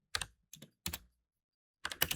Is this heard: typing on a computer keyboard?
yes